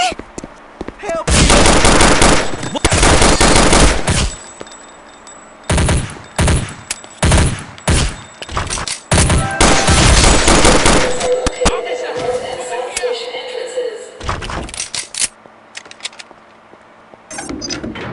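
Gunfire in the video game Counter-Strike: Condition Zero Deleted Scenes, Fastline mission: loud bursts of automatic fire and rapid single shots come in clusters, broken by brief gaps, with softer game noises in between.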